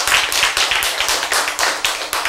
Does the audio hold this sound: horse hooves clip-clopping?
no